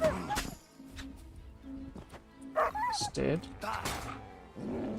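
A dog barks in the video game Kingdom Come: Deliverance 2, with a few sharp yelps mixed among game sounds while someone talks over them at moderate volume.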